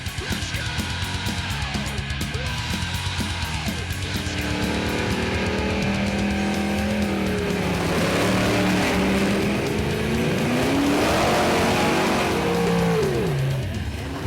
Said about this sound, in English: Now, we do have cars running at CMDRA events.